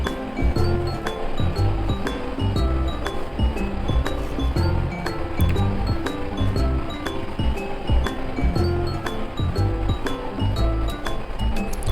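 Onions are stirred in a frying pan for roasted goat's liver, with a continuous sizzle and crackle throughout and repeated light metallic clinks of the utensil against the pan.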